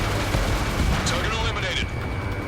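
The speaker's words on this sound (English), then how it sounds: "Strider 1, missile launched." A jet fires a missile in Ace Combat 7, giving a dense roaring rush of launch and engine noise with a rising whoosh, under a radio-style voice.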